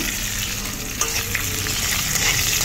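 Garlic browning in hot oil in a pan while pork and vegetables are cooked, a continuous close sizzle with occasional stirring scrapes.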